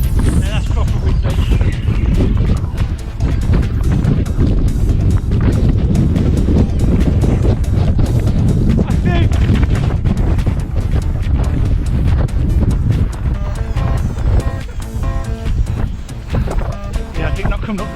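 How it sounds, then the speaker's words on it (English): Strong wind on Slieve Donard in the Mourne Mountains buffets the microphone in loud, continuous rumbling gusts and thumps that dominate the sound, with a voice speaking through it. "Now that's proper windy."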